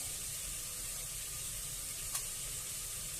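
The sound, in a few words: sautéing sprouted chickpea masala ingredients in a pan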